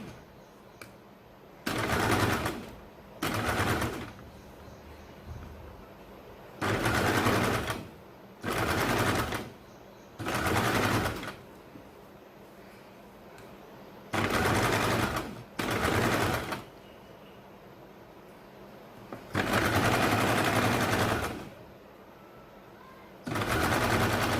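A sewing machine stitches a baby's circle frock in repeated loud, close bursts of rapid mechanical clatter, each a second or two long, separated by short quiet pauses.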